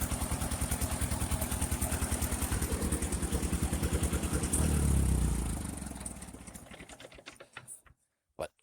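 The engine of a 1958 Ford 851 tractor chugs steadily with a fast, even rhythmic beat, then winds down and dies out, ending in a few scattered clanks.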